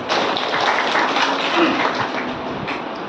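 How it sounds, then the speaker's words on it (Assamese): Church congregation clapping hands together in praise during a Christian sermon, a dense steady wash of applause with voices mixed in. "ঈশ্বৰকে তালি মাৰিব একবাৰ"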